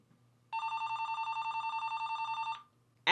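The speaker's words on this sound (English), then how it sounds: "The phone's ringing. That has never happened before." A telephone rings once with a long, steady electronic trill lasting about two seconds, clear and close in a quiet room, followed by the start of another ring.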